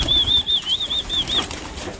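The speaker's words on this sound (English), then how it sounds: "There's some really nice birds in here though." Racing pigeons flap their wings at close range in a loft, a steady fluttering burst under a faint high whistle, with background noise throughout.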